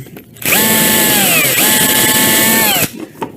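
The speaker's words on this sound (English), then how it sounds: "So I'm going to drill these just a little bit deeper there." A power drill runs steadily for about two seconds, boring screw holes deeper into wood at a ranch, with a loud close whine that briefly dips in pitch midway.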